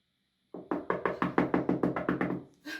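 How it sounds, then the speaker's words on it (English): About ten firm, evenly spaced knocks strike a gate in a stage performance, loud and resonant against a quiet backdrop. "There's knocking at the gate."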